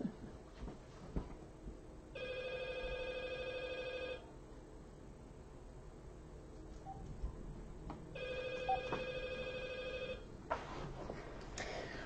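A telephone in the room rings in two long electronic trills several seconds apart, moderately faint against the room's background noise, with no voices.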